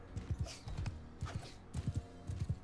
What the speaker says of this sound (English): Let's take our horse and run around over here.